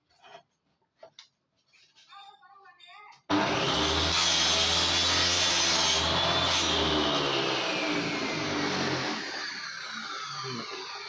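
A homemade table saw cutting through very old wood, a loud sustained roaring whine that starts abruptly after some faint handling noises and runs steadily for several seconds, easing slightly toward the end.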